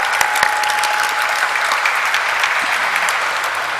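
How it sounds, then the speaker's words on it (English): Sustained, dense applause from a crowd at the Concord Biotech Limited stock listing ceremony, steady and loud for the whole stretch with no speech over it. "let's have a huge round of applause for this beautiful Concord Biotech Limited"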